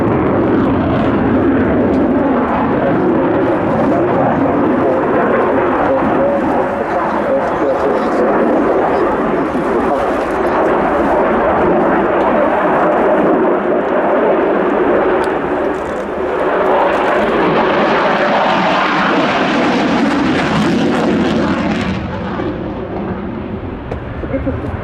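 Saab JAS 39E Gripen fighter jet in a flying display at RIAT 2025, a loud sustained roaring jet engine that swells and shifts in pitch as it passes, with a commentator talking over it.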